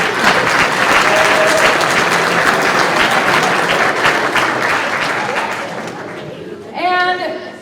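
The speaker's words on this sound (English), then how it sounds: "Give them a round of applause." Audience applause after a middle school sixth grade band concert in a school setting, a loud sustained burst of clapping filling most of the moment before tapering off, with a brief tonal note near the end.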